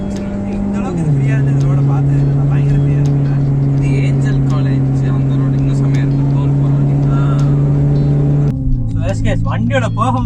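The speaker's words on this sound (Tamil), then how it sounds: "இந்த கெயின் அண்ட் பெர்ஃபார்மன்ஸ் எக்ஸாஸ்டோட ஃபீலும் நோட்டும் எல்லாமே வண்டியில் வந்து சூப்பராக இருக்குது" A modified Hyundai i10 with a performance exhaust drives along, its engine droning steadily and close with a gear-change dip near the end, while people talk over it.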